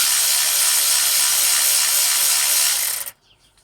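Power tool loosening nuts on threaded 8mm rods used to install C7 HEUI injectors, a steady loud high whir running for about three seconds before cutting off abruptly, no talking.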